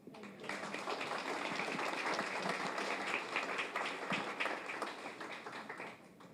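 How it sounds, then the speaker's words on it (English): A crowd applauds a graduate of a community re-entry program at a spring graduation ceremony: dense, steady clapping that swells quickly and holds for several seconds before easing slightly, with no talk over it. "I would like us to please give him more applause, please"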